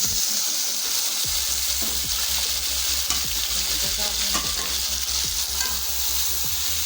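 Medium onions fry to a light golden brown in a pan for pulao, giving a steady, loud sizzle with occasional stirring scrapes throughout and no talking.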